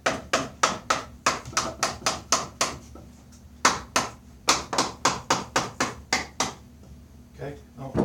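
Sharp knocks on wooden furniture unit pieces being hammered apart come in quick, irregular bursts of a dozen or so close, dry hits, with a short pause midway.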